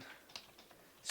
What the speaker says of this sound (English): next we're going to type fastboot